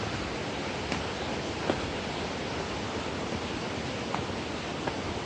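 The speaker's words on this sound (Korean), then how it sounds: "계곡 물소리가" Steady rushing water of a valley stream near a waterfall in Jeju, a constant broadband flow close by, with a few faint clicks over it.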